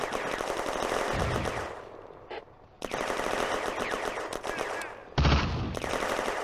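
Machine gun fire in the Firefight video game during an Eastern Front battle at a railway junction, dense loud rattling bursts with brief pauses between them and a sharper blast near the end.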